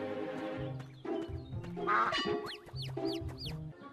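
A cartoon duck quacks in a string of nasal, voiced quacks that carry over a busy cartoon soundtrack, likely a voice imitating the duck.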